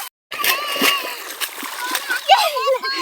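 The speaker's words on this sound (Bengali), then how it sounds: "আহি জলের মধ্যে, হ্যাঁ মাঠে এসে এই দুষ্টুমি করছে।" A child splashes about in the shallow water of a flooded paddy field, a run of close, bright splashes and sloshes mixed with a kid's chatter and an adult's voice.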